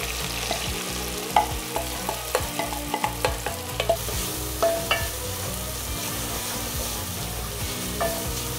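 Red onions, cinnamon, mace and cumin seeds fry in a pan with a steady, dense sizzle. Scattered crackles and soft scrapes of stirring run through it, and no one speaks.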